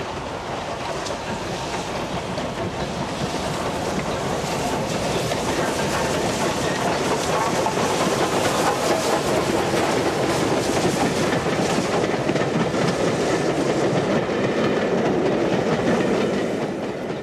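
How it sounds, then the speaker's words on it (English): A pair of steam locomotives, Repton and a Bulleid Canadian Pacific, passes near Swithland sidings north of Rothley on the Great Central Railway, a loud continuous rumble with rhythmic wheel clatter that builds and holds, then eases slightly. "The southern pair of Repton and Canadian Pacific approach Swithland sidings, just north of Rothley."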